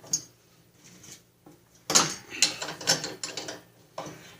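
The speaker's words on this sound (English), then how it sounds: "You're going to need a 9/16 wrench and socket to get that apart." A ratchet wrench with a 9/16 socket clicks in quick bursts while loosening self-locking nuts on a Snapper RER riding mower, close and crisp, with short pauses between rounds of ratcheting.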